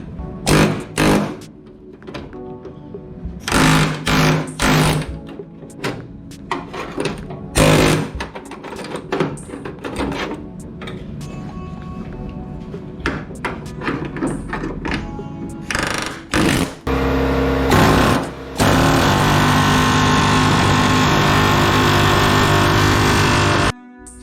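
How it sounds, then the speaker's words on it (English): Air chisel cutting off the cowl of a 1964 Ford Falcon, loud bursts of hammering on sheet metal that start and stop repeatedly, ending in a long sustained run. "Alright, got an air chisel."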